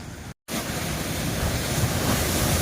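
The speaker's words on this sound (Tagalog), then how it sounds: "sobrang lakas ng alon" Strong ocean waves roar continuously against a rocky shore at Bolinao, a dense broadband wash of surf with wind noise, briefly cut out near the start before resuming loud.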